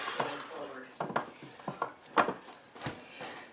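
Metal bread tray being handled and set out in a home kitchen during bread baking, giving several light clanks and knocks at irregular intervals, close by, with some background talk.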